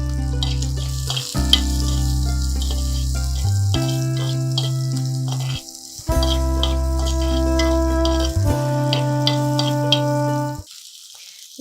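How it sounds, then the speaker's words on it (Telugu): Onions frying in a pan for an Indian-style oats breakfast, a loud steady sizzle running nearly twelve seconds with a few stirring scrapes and brief dips, then dropping away near the end; no talking. "ఇప్పుడు ఆనియన్స్ వేసుకుందాము."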